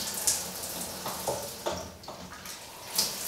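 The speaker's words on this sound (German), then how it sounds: "Und wenn ich so umschalte, kommt es nur aus der Handbrause." Water runs steadily from a shower hand sprayer into a shower, a continuous hiss with a few brief splashes and clicks.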